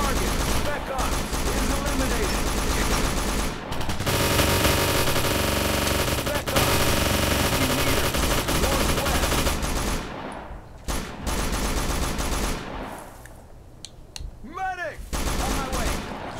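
Near-continuous automatic gunfire in the military shooter Operation Flashpoint: Dragon Rising, loud and sustained through most of the stretch with brief gaps, plus a faint chirping burst near the end; no speech is heard.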